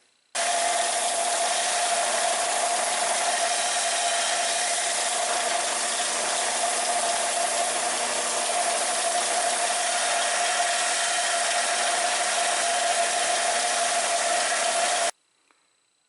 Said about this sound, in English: I'm putting an 80 grit belt on this flat sander here so that we can get a more rapid removal of metal.